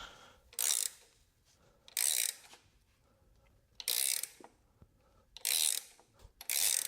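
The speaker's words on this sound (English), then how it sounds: "Take two with the right sized wrench." A wrench ratchets on a big block Ford, pulling a bellhousing dowel pin: five or six short, bright clicking bursts spaced about a second or two apart, close and fairly quiet with near silence between.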